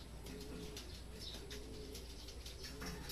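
Racing pigeons return during club training in Cabanatuan, Nueva Ecija, giving soft repeated coos and light wing flaps over a constant low outdoor hum, with no voices.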